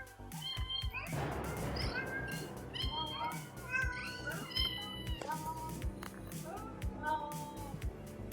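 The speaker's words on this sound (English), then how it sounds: "Cat choir?" Several cats meow over and over in overlapping, rising and falling cries, a busy, fairly close chorus lasting the whole stretch with no pauses.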